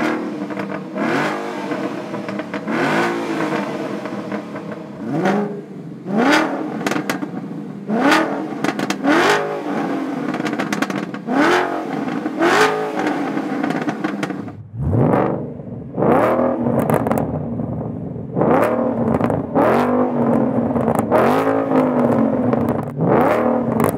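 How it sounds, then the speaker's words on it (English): A 2012-2013 Mustang Boss fitted with Kooks long tube headers and a catted H-pipe revs repeatedly. Each rising blip of its deep exhaust is loud and close, and a heavier, lower run of revs follows partway through. "We did grab some sound clips so you can hear what the long tubes will sound like with both a factory catback"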